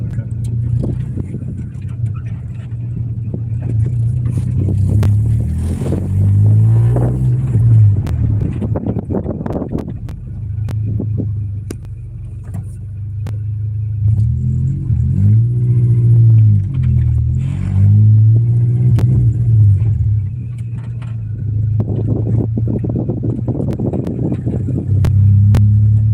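A K24-swapped Honda Civic engine runs during tuning with a loud, steady low rumble close by, rising in a few revving swells, while people talk over it.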